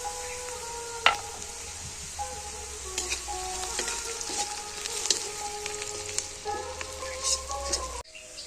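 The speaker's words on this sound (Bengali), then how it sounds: "পেঁয়াজ রসুন লঙ্কা ভালো করে ভেজে নিয়েছি" Onion, garlic and green chili fry in oil with a pinch of turmeric powder, a continuous close sizzle with occasional stirring clinks and faint tonal sounds in the background, no talking.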